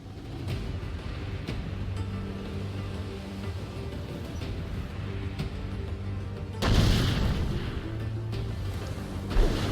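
Ship cannons fire in Assassin's Creed IV: Black Flag, one heavy booming broadside bursting loudly late on after a stretch of steady, droning rumble and faint distant thuds.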